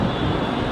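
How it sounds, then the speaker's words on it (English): Airplanes flying close to Ronald Reagan Airport in Washington, DC, give a steady, loud broadband roar that holds evenly through the short stretch, with no talking. "planes all the time."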